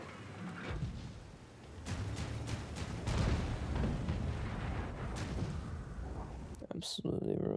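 Artillery shells landing in World of Tanks, a run of heavy booming impacts and rumbling blasts spread through the clip, moderately loud over a dense battle din, with someone talking over part of it.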